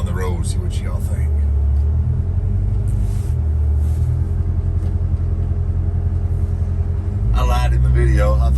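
1970 Chevrolet C10 pickup with an LS engine swap driving down the road, a steady loud engine drone with gear changes, heard from inside the cab while someone talks at the start and end.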